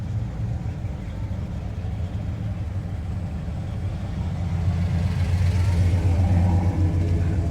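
A classic Imperial car cruises along, its engine producing a steady low rumble that swells into a stronger, louder drone toward the end as it accelerates, with faint voices beneath.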